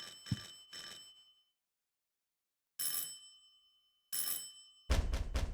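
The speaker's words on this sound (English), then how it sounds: "Someone is ringing our door." Doorbell ringing in the Silent Hill 4 video game: several separate bright chime bursts with silent gaps, the last a rapid cluster of repeated rings, loud and close with no talking.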